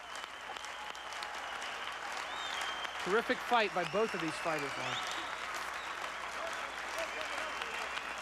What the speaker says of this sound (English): And that is what the crowd is applauding. Standing ovation for both young warriors.